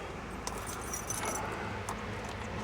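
Keys jangle close by in a few quick metallic bursts as they are gathered up before a 1975 van is started, with a low steady background hum and no talking.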